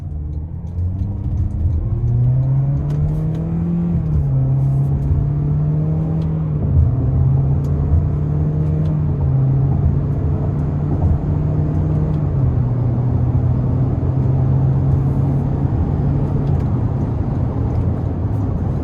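A 2026 Toyota Corolla Cross XLE with a 2-liter naturally aspirated engine and CVT accelerating firmly but not at full throttle, a loud steady engine drone that holds a near-constant pitch, with road rumble heard from inside the cabin.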